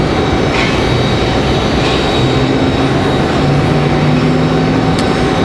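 An Airbus A320 arriving at Raleigh Durham International Airport rumbles in a steady, loud, broad roar with a faint tonal hum beneath, continuous throughout with no voices.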